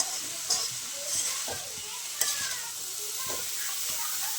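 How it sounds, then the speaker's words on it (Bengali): Steady sizzle of shredded cabbage frying in a pan, with repeated scraping clicks of a utensil stirring it, close and continuous. "এবার একটু নেড়ে নিব"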